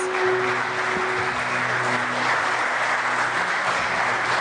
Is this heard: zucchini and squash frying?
no